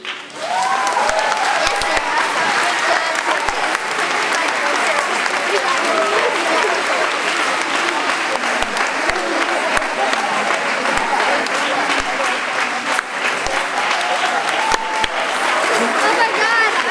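Audience applause fills a school spring concert hall after a children's song, a dense, steady clapping from a large crowd that holds at full strength for the whole stretch without fading.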